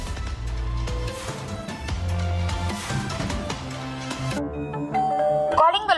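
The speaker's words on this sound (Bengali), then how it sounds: "কলিং বেল বাজাই কে?" A doorbell chimes indoors, its bright tone ringing out near the end over background music, with voices in a Bengali household setting.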